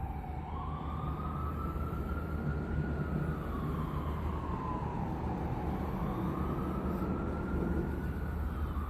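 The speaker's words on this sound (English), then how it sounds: "Oh, more sirens." A single emergency siren wails in a slow rising and falling sweep, steady and fairly close, over a low background rumble of traffic.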